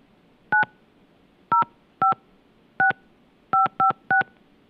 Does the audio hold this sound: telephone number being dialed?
yes